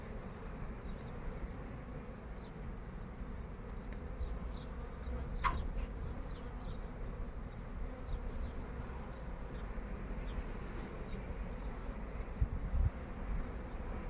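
Honey bees hum and buzz continuously around an open beehive during an inspection, a dense steady drone with individual bees flying close past now and then.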